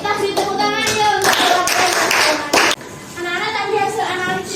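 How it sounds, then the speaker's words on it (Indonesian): Children in a classroom clap together for their classmates, a brief burst of quick overlapping claps mixed with young voices and an adult speaking. "kita beri tepuk tangan ya untuk"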